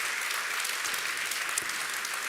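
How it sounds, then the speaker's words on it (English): Sustained crowd applause for award finalists at the DesignEuropa 2024 award ceremony, a dense, even wash of many clapping hands without talk. "So once again, round of applause to them too."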